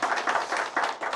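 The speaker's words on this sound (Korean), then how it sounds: "우리 두 분께 박수 한번 쳐드리죠" Audience at a social workers' association election debate in Incheon clapping in a short burst of steady, moderately close applause.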